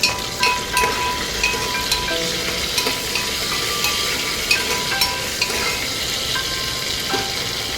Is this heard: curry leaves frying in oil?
yes